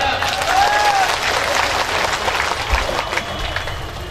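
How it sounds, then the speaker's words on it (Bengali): A crowd at an outdoor Bangladeshi union political gathering gives steady, fairly loud applause that continues without a break, with some faint background voices mixed in. "একটাকে হাততালি পেতে পারি না?"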